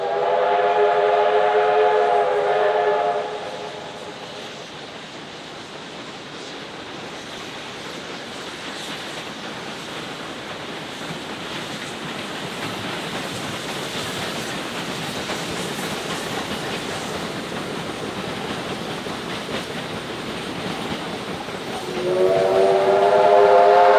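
K-Class steam locomotives on a trip to Traralgon sound a long harmonic whistle, then a train rolls past with a sustained rushing clatter of wheels, before another whistle blast rises again at the end.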